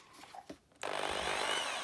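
After a brief shuffle and handling noise, a Black and Decker hammer drill kicks on in hammer mode, jumping straight to a loud, rough, buzzing motor drone that continues steadily up close, with no talking.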